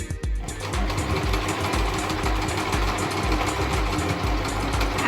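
A sewing machine stitches fabric for a face mask, a close, rapid mechanical chatter with a steady rhythmic pulse that starts after a brief moment and runs continuously.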